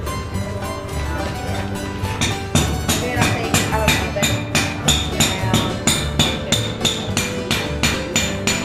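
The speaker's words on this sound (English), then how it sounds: "This is gonna be a little chisel. I'm gonna put little lines in it." A hammer strikes a small chisel in a quick, steady series of sharp metallic taps as lines are cut, close and clear, with faint talk in the background.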